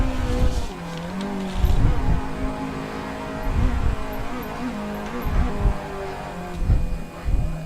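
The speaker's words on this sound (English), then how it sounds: "extend that drift. We really need to get some heat in these tyres." A car drifting in the Assetto Corsa racing game, its engine droning and surging while the tyres squeal and scrub in repeated bursts through the slide, loud and close, with no talk.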